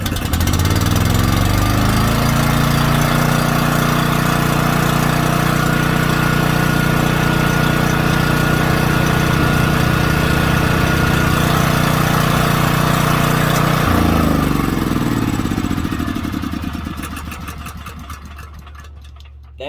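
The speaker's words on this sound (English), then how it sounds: "Let's see if it'll start without choke, because I just had it running." A gasoline generator engine runs steadily at a loud, close, droning idle with a low buzzing hum, then loses power around fourteen seconds and sputters down toward a stop, with no talk.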